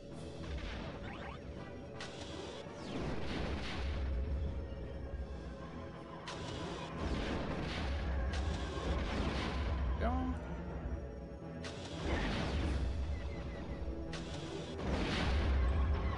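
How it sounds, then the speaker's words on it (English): Missile explosions in the Star Wars Rogue Squadron game sound as a run of heavy crashing blasts in irregular bursts over a low engine rumble, moderately loud, with a voice speaking at times. "Missiles."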